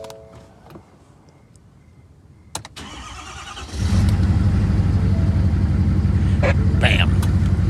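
A car engine cranks and catches after a few soft clicks and a brief pause, then settles into a steady, even idle that runs loud and close to the end.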